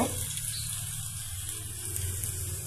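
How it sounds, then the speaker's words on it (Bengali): Ginger garlic paste with bay leaf and cinnamon frying in mustard oil while cauliflower with mung dal is cooked, a steady close sizzle with no speech. "আদা রসুন পেস্ট, সাথে তেজপাতা আর দারচিনি একসাথে ভেজে নিচ্ছি"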